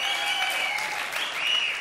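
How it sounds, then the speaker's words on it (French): A studio audience at a French television variety show applauds a gendarme, the clapping dense, steady and sustained from start to finish. "vous faites bien d'applaudir ce gendarme qui a magnifiquement joué"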